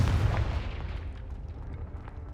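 A single Confringo fire blast from Hogwarts Legacy hits with a deep, heavy boom that rolls out and slowly decays into a low rumble, loud and close.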